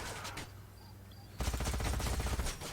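Gunfire erupts in the sci-fi strategy game Age of Wonders: Planetfall, a dense, loud volley of rapid overlapping shots starting abruptly after a quieter lull and continuing steadily to the end.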